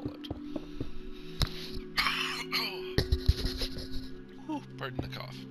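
Several sharp coughs and throat-clearing bursts from a person close to the mic, broken up by short pauses over a steady low background hum.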